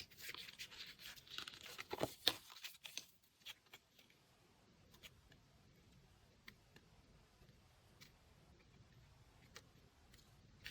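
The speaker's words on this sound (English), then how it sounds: "I will shuffle now to see what cards we got for each semester" Tarot cards being shuffled by hand, a quiet run of papery riffles and soft ticking flicks, busier at first and then sparse, close and faint with no talk.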